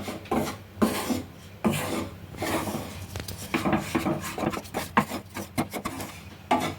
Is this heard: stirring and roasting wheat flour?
yes